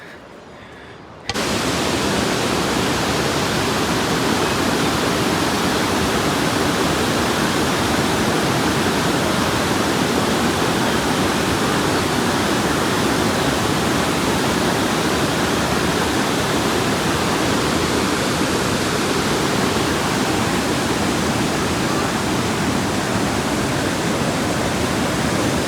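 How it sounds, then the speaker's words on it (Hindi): The Alakananda river rushes beside a mountain trail in Uttarakhand, a loud, steady roar of fast whitewater that begins abruptly after a quiet second and then fills the scene unbroken to the end. "इस रास्ते पे आपको अलकनंदा रिवर के बिल्कुल पास आने का मौका मिलेगा।"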